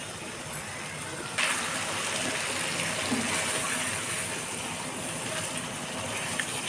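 Water pouring into a pan of spices while cooking a jackfruit curry, a steady close splashing gush that starts abruptly and runs on evenly.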